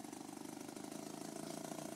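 A BRASH quasiturbine engine runs at a fast, pulsing beat with a rough mid-range drone, fairly faint and steady, holding speed before pulling away.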